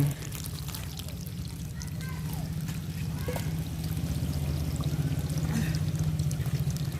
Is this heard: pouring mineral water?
yes